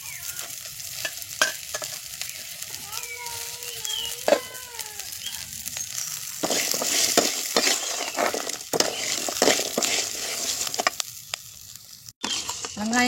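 Onion and garlic with a few curry leaves sautéing in a pan for a thuvaiyal chutney, a soft sizzle broken by repeated sharp stirring clinks and scrapes; a faint voice briefly in the background.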